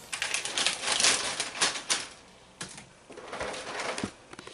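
Trusty scissors snip and slice through a sealed bag of organic cereal, giving close, crisp bursts of crinkly cutting and rustling plastic in two rough passes with a short pause between.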